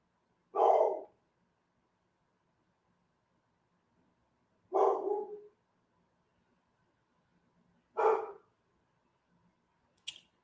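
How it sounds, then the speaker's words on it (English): A dog barks indoors in three separate short bursts spaced a few seconds apart, fairly close and moderately loud, with silence between them and a brief sharp sound at the end. "My dog just pissed me off."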